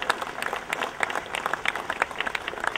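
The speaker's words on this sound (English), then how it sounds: "Can we give them a round of applause?" An audience at the opening day of a railway heritage center applauds the volunteers with dense, lively clapping that stays even and fairly close throughout.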